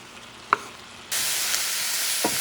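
Pepper steak mixture cooking in a pan for a stuffed bread sandwich: a brief clink, then a steady close sizzle that starts suddenly and holds, with another light clink near the end.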